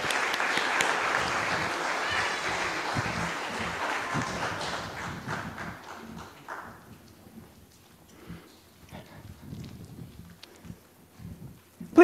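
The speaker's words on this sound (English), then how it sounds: "We'll clap again." Congregation clapping in a church worship service, a dense burst of applause that is fairly loud at first, then thins into scattered claps and fades over the last several seconds.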